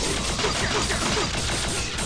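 Enemy gunfire in the Shadowgrounds video game comes as a dense, continuous fusillade of rapid shots, loud and close, lasting throughout without a break.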